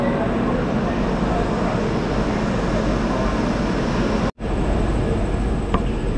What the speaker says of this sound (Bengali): বহরমপুর থেকে আমাদের ট্রেন কিন্তু ছেড়ে দিল।